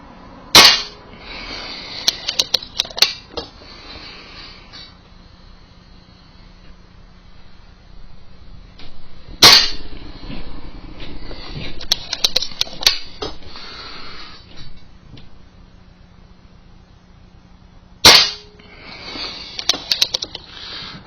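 Air rifle shots fired into a target, three sharp loud cracks spaced several seconds apart, each followed by clicking and mechanical handling noises between shots.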